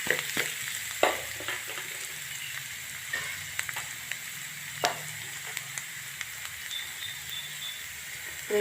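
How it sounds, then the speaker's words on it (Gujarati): Ginger chili paste sizzles steadily as it is fried and stirred for an aloo kofta curry, a soft continuous hiss broken by scattered scraping and clinking stirring strokes, close up, with no talk. "આદુ મરચાંની પેસ્ટ મિક્સ કરી દઈશું."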